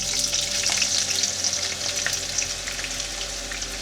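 Chopped onions frying in hot oil for chicken biryani, giving a steady, dense sizzle with faint crackles, close and continuous, with no voices.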